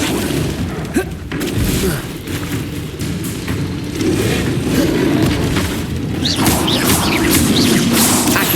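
Spell-casting effects from the Hogwarts Legacy video game, with a fire spell among them: dense, continuous magical bursts and rumbling impacts run throughout, louder in the second half, with no talk over them.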